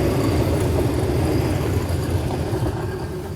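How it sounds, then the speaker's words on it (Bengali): Trains pass through an Indian railway station, one an eight-coach white Vande Bharat, in a continuous close, heavy rumble that holds steady and eases slightly toward the end, with no voices. "পরপর দুটো ট্রেন ছেড়ে দিল"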